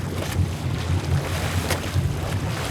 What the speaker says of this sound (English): Even down the rock cut, the wind just pushes right through the middle